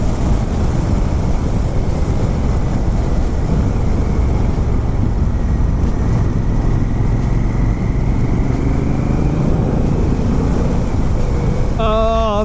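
A motorcycle riding along a road at speed, its engine droning loud and steady with heavy wind rush, and a brief rising rev note near the end.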